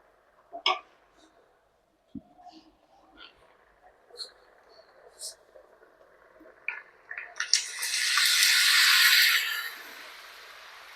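Water pours steadily into a pot of cooked lentils for sambar for a couple of seconds after a few scattered clinks and knocks of kitchenware, then trails off into a softer trickle.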